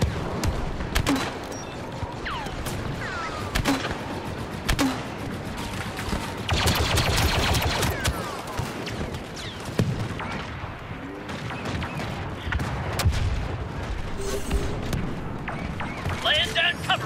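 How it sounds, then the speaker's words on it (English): Covering gunfire in Star Wars Battlefront 2 on Geonosis: rapid blaster shots and sharp bursts crack repeatedly at close and middle range, with heavier booms and battle noise, and game voices call out between the volleys. "Laying down covering fire!"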